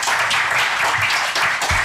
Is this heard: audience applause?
yes